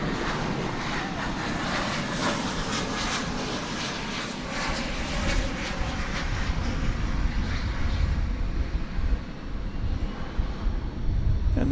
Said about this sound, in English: Another lemony Spirit aircraft. 34 Delta 2 p.m. It's coming in from Las Vegas